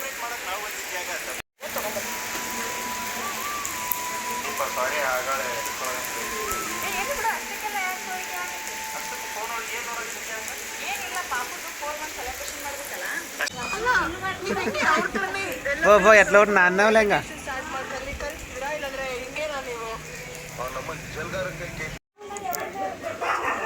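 Steady heavy rain hisses throughout while people talk nearby, the voices getting louder partway through.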